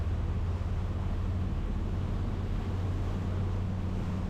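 Cranchi 67-foot flybridge motor yacht cruising out of a lagoon into waves, a steady loud low engine drone mixed with rushing water and wind buffeting the microphone.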